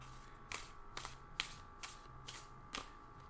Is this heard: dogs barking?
no